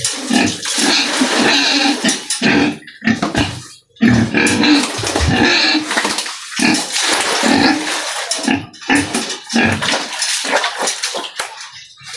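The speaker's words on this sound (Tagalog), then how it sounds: "kaming baboy Brad" Pig grunting and oinking loudly and continuously, close by, in dense repeated bursts with brief pauses, with a wet, splashy quality throughout.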